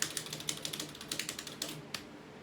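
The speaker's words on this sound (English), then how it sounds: "that's me hitting that keyboard" Rapid keystrokes on a computer keyboard, a steady burst of close, crisp clicks with a few louder hits, alone without speech.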